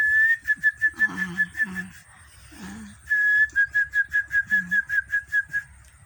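A person whistles a steady high note in short repeated pulses to lure a lizard, two long runs, close by, with a few low voiced murmurs in between.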